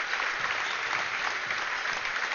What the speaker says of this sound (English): She gets her applause by the crowd, standing ovations